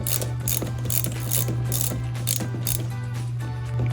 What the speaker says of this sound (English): So I'm working on the banjo bolt with a 13mm.